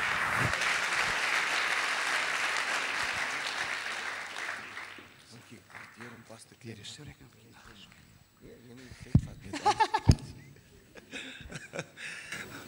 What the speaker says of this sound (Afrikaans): Kom ons gee hom 'n lekker hande klap.